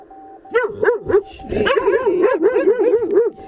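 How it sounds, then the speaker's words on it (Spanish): A big dog barks repeatedly and loudly up close, a string of deep woofs that turn into whiny yips and whimpering howls, fairly continuous over a few seconds. "Mira qué pedazo de perro."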